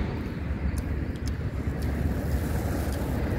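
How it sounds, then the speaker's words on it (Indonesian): Wind gusts at a winter campsite, buffeting the microphone with a loud, fluctuating rumble and rush that persists without a break and without talking. "Tuh anginnya lumayan"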